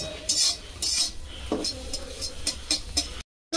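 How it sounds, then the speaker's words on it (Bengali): Egg beaten in a bowl with a utensil as prep for restaurant-style chicken chowmein, giving quick repeated clinking and scraping strokes at close range that stop abruptly near the end. "ডিমটাকে এভাবে ঝুড়ো করে নেবো"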